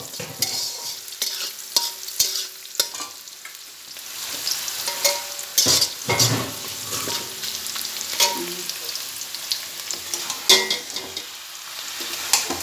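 Chicken fries in a pan with a constant sizzle, broken by repeated scraping and clanking strokes as it is stirred.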